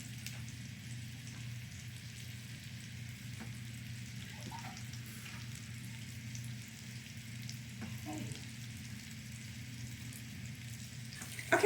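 Salmon croquettes frying in a pan, a steady soft sizzle and crackle of hot oil running continuously at moderate level, with faint occasional pops and a brief clatter at the end.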